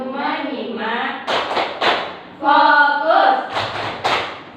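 Indonesian classroom doing the 'tepuk fokus' clapping rhythm, several sharp claps and thumps come between a group's chanted words, loud and close.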